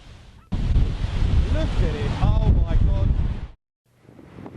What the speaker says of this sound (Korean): 집채만한 파도는 해안 마을을 위협하고